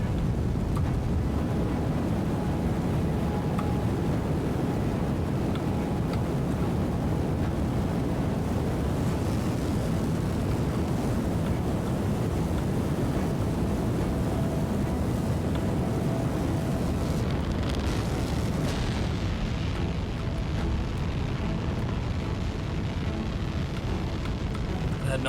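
Rocket engine launch in Kerbal Space Program 2, a dense, continuous roaring rumble like rushing wind and surf, loud and unbroken for the whole stretch before thinning slightly near the end.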